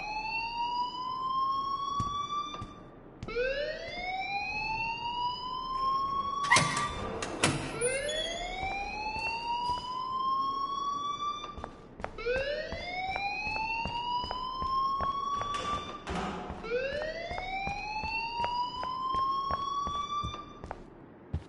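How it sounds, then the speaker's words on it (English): An alarm siren in the video game Life is Strange wails in repeated rising sweeps, loud and continuous, cycling every few seconds with a few sharp clattering bursts between rises. "please turn off that alarm since that's your job"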